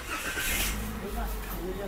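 A car engine cranks and catches, then idles steadily in a close, continuous rumble; no one speaks over it. The car has a weak engine mount and delayed, hard-jolting reverse engagement.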